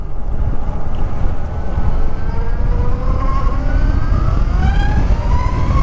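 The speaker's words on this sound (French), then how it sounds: "Je suis toujours surpris par la puissance de cette moto." A powerful motorcycle accelerates hard, its engine note climbing steadily in pitch through the gears, loud and continuous under heavy wind rush, no talking.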